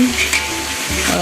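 Half-cooked beef for rendang fries in hot oil, a brief, loud, close sizzle with a bit of stirring.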